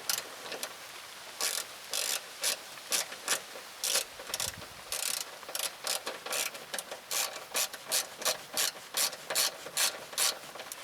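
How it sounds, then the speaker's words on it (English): Rapid ratcheting clicks come in quick rhythmic bursts as a speaker mounting bracket is tightened into the door of a Vauxhall Corsa D 1.4 SXi. The clicking is close and steady, with brief pauses between strokes. "We're now going to just tighten this up once I've got this here into place."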